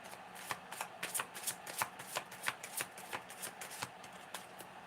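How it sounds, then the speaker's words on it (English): Close, crisp riffling of a card deck being shuffled, a quick run of soft clicking bursts repeating over several seconds, with no talking. "Let me shuffle."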